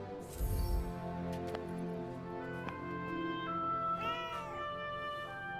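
A cat meowing in the video game Forspoken, a few short mews and one drawn-out wavering meow amid light ambient tones, close and clear with no talking.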